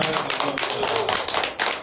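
Audience at a Korean literary concert on a Hamyang literary tour claps together, a dense sustained patter of hands filling the room without pause.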